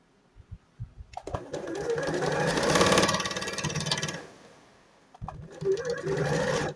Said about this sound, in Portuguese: Eu venho costurando.